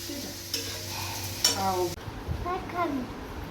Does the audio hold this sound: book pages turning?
no